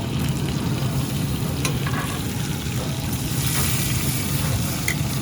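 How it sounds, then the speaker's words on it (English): Tequila lime pork chops sear on a hot grill, a steady close sizzle and crackle of meat on the grate with a few soft clicks, continuous and fairly loud, with no talking. "put them right directly on the grill and let them sear up and get good and brown"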